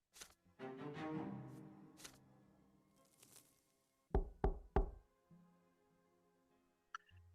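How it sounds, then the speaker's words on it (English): Three sharp, heavy knocks on a door in a narrative video game, close and distinct, following a softer rumbling passage and ending with a faint chime. "There is a knock at the door."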